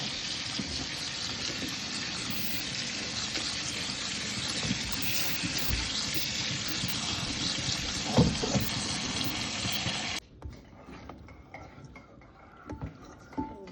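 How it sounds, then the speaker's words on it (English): Cold water runs steadily from a kitchen tap over freshly drained cooked macaroni noodles in a colander, a loud continuous splashing rush that stops abruptly near the end, leaving faint kitchen clatter. "I'm gonna run some cold water over it."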